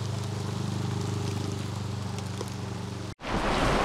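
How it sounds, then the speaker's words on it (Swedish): A heavy downpour of rain during a fishing outing sends a thick, steady patter with a slight pulsing texture, then cuts off abruptly and resumes louder and rougher. "nu kommer spöregnet"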